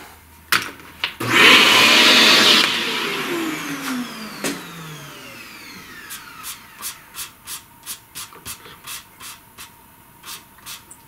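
A small vacuum used on a pastel flower drawing whirs loudly and close for about a second and a half, then gives way to a quieter series of rhythmic rubbing strokes.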